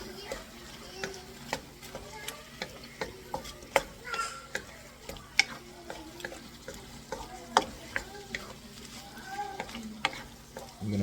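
Shrimp cooking in a pan for Filipino mung bean soup with pork, a soft steady sizzle with scattered clinks and scrapes of a utensil against the pan, under occasional talking.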